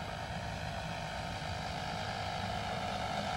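An RC model airplane flying in to land, its engine and propeller giving a steady, continuous drone that holds at an even level from start to finish, with no voices.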